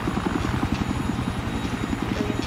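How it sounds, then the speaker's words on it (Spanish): Russian reconnaissance helicopter in Battlefield 3, a loud continuous rotor thumping in a fast, even rhythm with a steady engine whine underneath, no speech over it. "acabamos de pillarnos un helicóptero ruso de reconocimiento"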